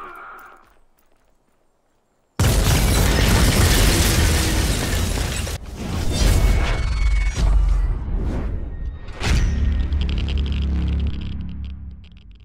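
A loud, sustained explosion bursts in the Volcanoids video game, followed by a rumbling aftermath, debris crackles and further booming bursts, with no talk over it.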